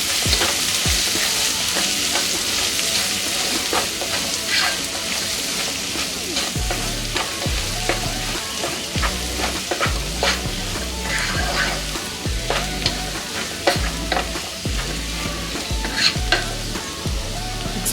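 Masala spices and a chopped tomato fry in hot oil for vegetable kurma, a loud continuous sizzle broken by repeated rhythmic scraping and stirring strokes of a spoon against the pan.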